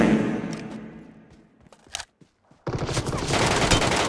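An MK14 rifle with an 8x scope fired in a video game, a dense rattling burst of shots that fades, then a short pause and a loud renewed roar of gunfire.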